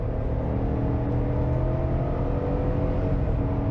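A 2021 Chevy Tahoe with a 5.3 liter V8 accelerates onto a highway, a steady, loud engine drone and road rumble heard from inside the cabin, with no talking.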